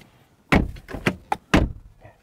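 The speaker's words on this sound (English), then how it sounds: "It all feels really nice and solid as well in our door slam test." Car door on a 2023 BMW M340i shut firmly several times, a series of solid, deep thuds spaced about half a second apart, close and clear with a quiet pause between each.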